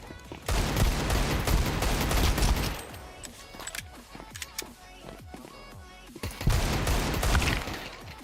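Counter-Strike 2 gunfire comes in dense automatic bursts, with a heavy volley, a stretch of scattered single shots and clicks, then another loud burst. Faint voices sit under the shooting.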